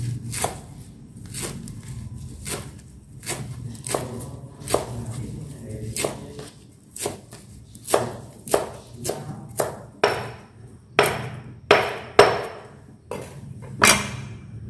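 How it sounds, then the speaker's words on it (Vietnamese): A knife chops green onions steadily on a cutting board, sharp repeated strikes in an uneven rhythm, close and clear over a low background hum. "Dăm hành mình cắt nhỏ ra, mình nấu canh cho nên là mình cắt to."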